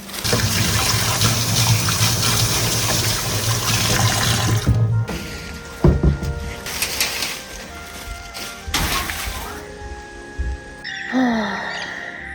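Tap water runs steadily into a sink while flower stems are rinsed under it. A loud continuous gush is followed by splashing and handling sounds, then the flow is turned off, leaving scattered drips and clatter.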